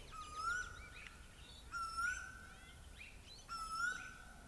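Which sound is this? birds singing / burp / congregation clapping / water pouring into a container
birds singing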